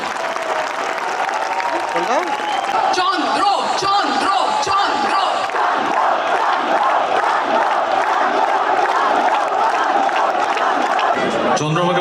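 A concert crowd at a band event cheers, whoops and claps loudly for a performer, a dense roar of voices and applause that cuts off abruptly near the end.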